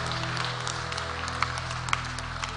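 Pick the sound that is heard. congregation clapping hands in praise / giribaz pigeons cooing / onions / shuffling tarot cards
congregation clapping hands in praise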